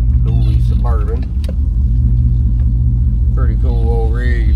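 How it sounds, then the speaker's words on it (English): A 1986 Suburban dually truck idles nearby, its steady low engine rumble running beneath someone talking. "I had to leave my truck running"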